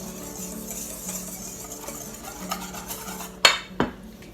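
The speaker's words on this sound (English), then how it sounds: "I just take a whisk and kind of mix this together." A whisk stirring dry ingredients with kosher salt in a bowl for chocolate chip blondies gives a soft, steady scraping, then two sharper clinks of metal against the bowl near the end.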